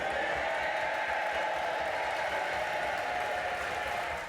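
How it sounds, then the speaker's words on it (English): More than 400 Labour MPs applaud and cheer the new Prime Minister, a dense, continuous roar of clapping from a large crowd that holds steady throughout. "The massed ranks of more than 400 Labour MPs applauding and cheering their leader, the new Prime Minister."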